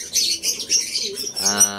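A racing pigeon's wings flap in quick fluttering bursts nearby, with a short cooing call near the end.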